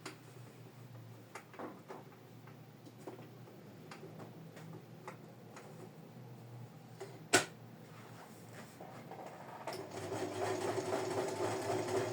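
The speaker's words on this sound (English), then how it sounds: "my camera doesn't show my sewing machine, but I will show you my results as I'm done stitching." A sewing machine stitches an in-the-hoop kitten project in a steady, rapid mechanical ticking that runs throughout, with one sharp click partway and a louder, busier stretch of stitching near the end; no talking.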